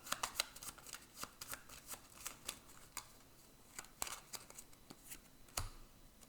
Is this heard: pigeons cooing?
no